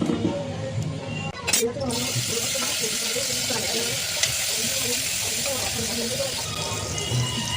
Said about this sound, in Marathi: ही मच्छी आपण पहिल्यांदा मस्त फ्राय करून घेऊया